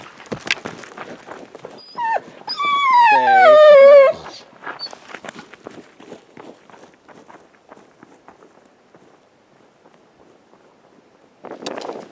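A dog whimpers and gives a short rising howl, loud and close, amid footsteps on a sunny trail run in northern New Mexico near Williams Lake, followed by quieter rustling and distant ambient sound.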